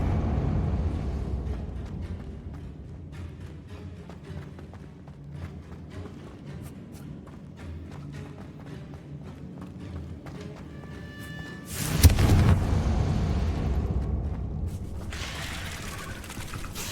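The Confringo blasting spell exploding in the Hogwarts Legacy video game, one sudden loud burst near the end over a low, steady rumble of ambience.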